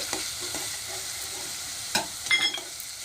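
Spice paste of ground coriander, chilli and turmeric frying in oil for a dhaba-style chicken curry, a steady close sizzle with a few louder scraping stirs near the end.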